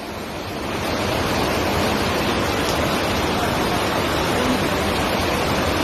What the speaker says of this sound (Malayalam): സ്കൂളിന്റെ ഇതിൽ കൂടെയാണ് വെള്ളം വരുന്നത്.